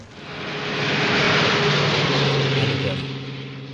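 Propeller airliner passing overhead in the 1959 Hitchcock film North by Northwest, a steady broad engine drone that swells to a peak around the middle and then fades, with a low hum underneath and no clear speech.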